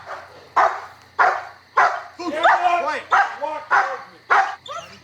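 A police dog barks in a steady, repeated run of loud, close barks during a rooftop standoff, with someone shouting over it.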